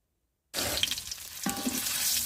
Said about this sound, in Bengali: কড়াইয়ে তেল দিয়ে দিচ্ছি, হলুদ লবণ দিয়ে দিয়েছি এবং ডিমগুলো ভাজার জন্য দিয়ে দিলাম